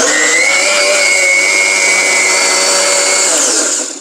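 A Miyako high-power blender whirs at full speed making juice, a loud, steady, high-pitched motor whine with a churning roar that holds constant, then begins to wind down at the very end.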